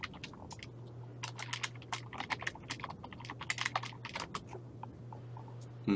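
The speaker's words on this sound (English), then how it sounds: "Who's typing?" Rapid computer keyboard typing clatters in uneven bursts of keystrokes against a low background hum, fairly close and moderately loud.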